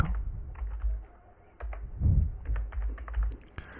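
Keys clatter on a computer keyboard as an SQL query is typed, a close, quick and uneven run of taps with short pauses between bursts and no voice.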